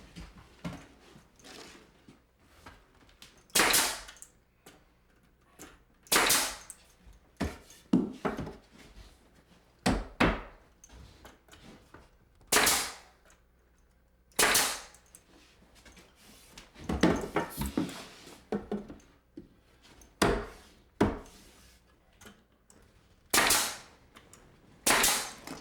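Pneumatic nail gun firing into cabinet trim during a farmhouse finish-trim and cabinet installation, a dozen or so sharp, separate cracks spaced a few seconds apart, close and loud with quiet gaps between.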